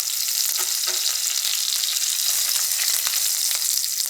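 Curry leaves hit hot oil for a Gujarati bhaidku dish, producing a loud, dense, spitting sizzle that holds evenly from start to finish with no one talking.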